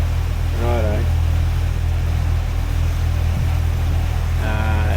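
A boat engine drones loudly and steadily at raised revs while the vessel pushes against the tide through The Narrows, a tidal channel on the route from Pancake Creek to Rosslyn Bay. A couple of brief voices sound over it.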